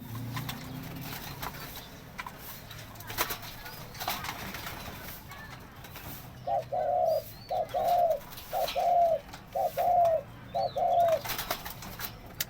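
Pigeon, likely a racing or fancy pigeon, cooing in a run of about six rhythmic, close, fairly loud phrases in the second half, after a stretch of quieter background noise.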